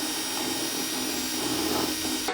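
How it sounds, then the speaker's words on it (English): A power drill bores a hole through a plastic bucket, a steady continuous whine with grinding texture running throughout, close and fairly loud, cutting off abruptly at the end. "I'm gonna drill a hole through here and make this a little larger"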